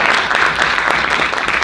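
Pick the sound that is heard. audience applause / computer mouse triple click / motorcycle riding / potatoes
audience applause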